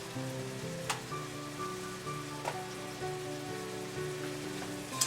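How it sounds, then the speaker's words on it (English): Onions and pepper sautéing in a pan for dirty rice, a steady dense sizzle with a few scattered pops and a faint background hum, no talk. "Let's saute these onions and pepper."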